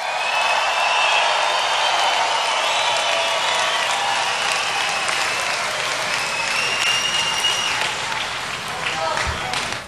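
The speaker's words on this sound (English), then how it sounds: "let's give them another big round of applause" A rally crowd applauds steadily for nearly ten seconds, a dense, loud wash of clapping mixed with cheering and whistles that eases slightly toward the end.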